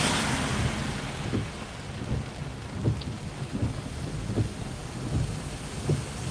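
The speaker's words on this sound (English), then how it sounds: "This storm is dumping on us right now." Heavy rain pours steadily during a thunderstorm in Midlothian, Virginia, with a low rumble of thunder rolling underneath and repeated dull thumps from drops hitting a nearby surface, loud and continuous.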